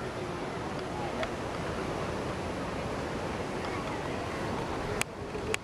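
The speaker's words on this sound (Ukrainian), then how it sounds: "А тут тоже спокойный океан." Steady wash of calm ocean surf at Unawatuna beach, Sri Lanka, a continuous broad rush with soft wind, and a brief knock near the end.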